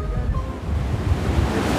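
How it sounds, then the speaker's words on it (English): Choppy ocean waves off Cape Verde, a steady loud wash of surf and water noise with wind buffeting the microphone throughout. "the waves look choppy"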